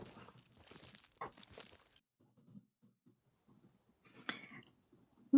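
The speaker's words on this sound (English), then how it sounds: "Ooh, listen to the crickets." Crickets chirp at night in the video game Scarlet Hollow, a thin high trill running steadily through the second half after a stretch of soft footsteps and rustling, faint and continuous in the background.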